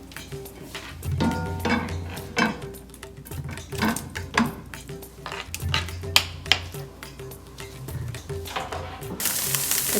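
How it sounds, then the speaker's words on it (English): Tofu tossed into a pot with a little oil, still coated from masala cooked earlier, giving faint sizzling and frying along with clanks of utensils against the pot and some stirring noise. "In that same pot that we made the masala in, I'm just gonna throw the tofu on here. A little bit of oil."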